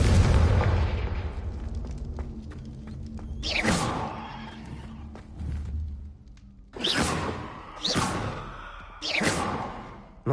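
Confringo spell blasts in a video game go off as several booming explosions with whooshing tails, one near the start and a tight cluster toward the end, fairly loud against a quieter background.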